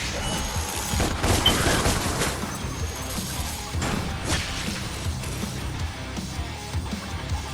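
Rapid gunfire from the action game DmC Devil May Cry, a dense, continuous fusillade of sharp shots with crashing impacts and whooshes running throughout, loud and busy with no talk.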